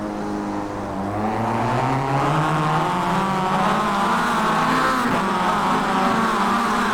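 Mazda MX-5 race cars lapping Daytona in the iRacing simulator, a loud steady engine drone with rising and shifting pitch as several cars run together, no voices over it.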